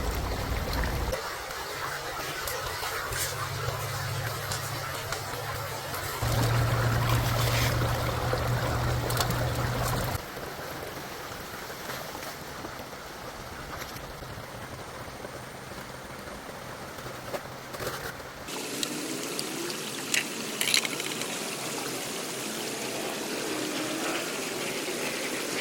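Water runs steadily through a gold prospecting sluice, a continuous close trickling and rushing flow with a low pump-like hum in parts, with no talking.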